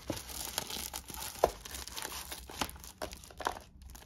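A plastic bag wrapping a coloring book crinkles and crackles in irregular bursts as it is handled and opened up close, with no talking.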